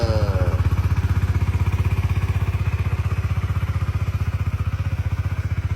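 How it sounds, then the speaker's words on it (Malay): The stock engine of a 2023 Honda RSX 150 ABS fuel-injected motorcycle idles nearby, making an even, rapid putter that stays steady throughout and is heard alone. "Inilah bunyi enjin standard."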